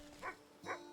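A dog in the video game Wytchwood gives two short, soft barks or woofs about half a second apart over a faint steady background hum.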